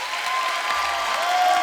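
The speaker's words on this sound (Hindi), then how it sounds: "जोरदार तालियों से स्वागत कीजिए" A studio audience at a televised comedy show breaks into loud, dense, sustained clapping that fills the room with no voices over it.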